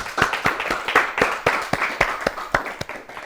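A school audience in a children's quiz competition claps for a student, a brisk run of sharp, close hand claps in a steady uneven rhythm lasting a few seconds, with no talking over it.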